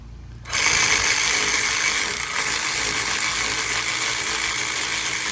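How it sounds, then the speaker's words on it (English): A ratchet and socket working a wheel hub bolt on a 2006 Chevy Impala, a loud close mechanical whir that starts abruptly and runs steadily to the end. "Move my ratchet and socket."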